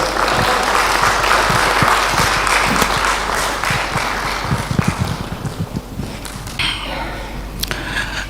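Audience applause welcoming Dr. Nirmal on stage at a motivational talk, loud sustained clapping from a large crowd that gradually thins out, with voices near the end.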